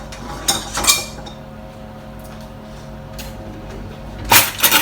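Utensil clinks against a dish while shepherd's pie gets its potato topping spooned on, with a couple of clustered scrapes and taps near the start and another pair at the end, close and fairly soft over quiet room tone.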